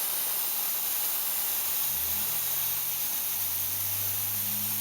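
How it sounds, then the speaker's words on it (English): Airbrush spraying paint onto a small scale model starship at about half pressure, a steady close hiss of air without a break, with a faint low hum underneath. "I'll fire up my airbrush now and basically test my paint here"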